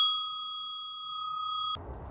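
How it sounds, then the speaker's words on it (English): A single clear bell rings, pure and sustained, signalling the launch of a pump-powered sprout-flinging contraption. Its tone holds steady until it is cut off abruptly by a short burst of noise. "launch on the sound of the bell."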